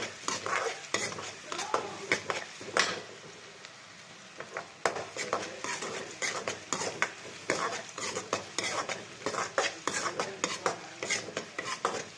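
Onions stirred and frying in a pan for drumstick leaves palya: repeated scraping strokes of a spatula over a soft sizzle, close and fairly loud, with no talk.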